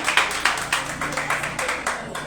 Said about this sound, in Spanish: Dese un aplauso a usted entonces